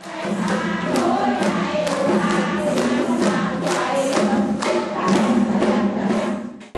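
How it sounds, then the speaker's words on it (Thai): A large community crowd of about 400 rehearses cheering songs for a sports competition, loud and continuous, with massed voices singing together over rhythmic thumping beats throughout. "ได้ยินเสียงเชียร์เสียงดังอึกทึกคึกโคมแบบนี้"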